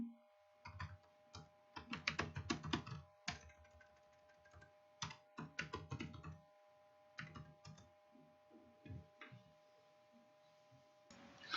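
Someone types a folder name on a computer keyboard: quiet, close bursts of clicking keystrokes with short pauses between, under a faint steady hum.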